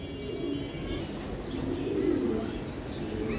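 Low, rolling coos from giribaz racing pigeons repeat close by in a loft, with light rustles and a few faint chirps mixed in.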